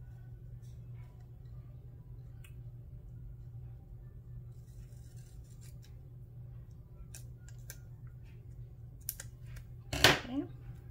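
Scissors cutting a paper sticker sheet, a faint snipping and rustle over a steady low hum, ending in one brief louder cut near the end.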